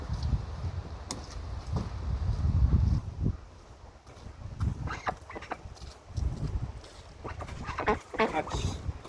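Aylesbury duckling calling on a farm, several short peeping calls in bursts over low rumbling handling noise and background sounds.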